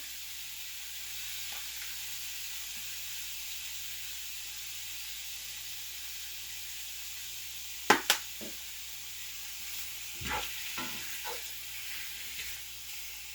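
Thinly sliced pork seasoned with garlic pepper blend frying in a pan, a steady even sizzle throughout, broken by a couple of sharp clicks and later some scraping stirs.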